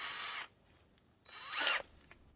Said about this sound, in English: I could do this so much faster with just using the drill.